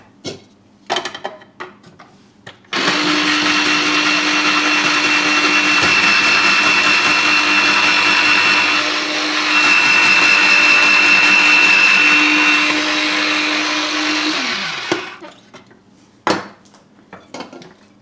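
A Silvercrest SGR 150 E3 electric grater slices onions, its motor whirring steadily at a constant pitch for about twelve seconds and briefly rising in strain midway, with short clatters before and after it runs.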